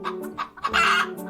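Hens clucking in a henhouse, a quick run of short, close clucks and squawks in an uneven rhythm, clear and alone with no voices.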